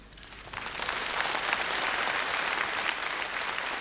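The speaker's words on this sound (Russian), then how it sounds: "Дорогие друзья, хлопайте." A concert audience at a 2005 Russian-language variety show bursts into applause, which swells within the first second into a full, sustained wash of clapping.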